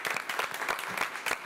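A school board meeting audience gives a brief round of applause for a high school high jump qualifier, the individual claps distinct and fairly close, lasting just over a second.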